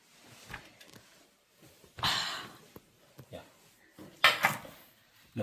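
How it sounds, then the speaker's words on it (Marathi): Plates, pots and cutlery clink and clatter in a home kitchen as food is dished out, with two louder bursts of scraping and clinking amid quiet voices and breathing. "चला आपण घेऊया वाढून आता."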